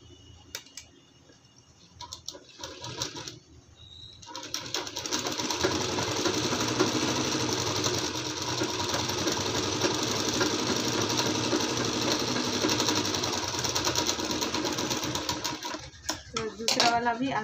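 A sewing machine stitches the crotch seam of palazzo pants, running steadily and loud for about ten seconds after some handling noise at the start, then stopping near the end.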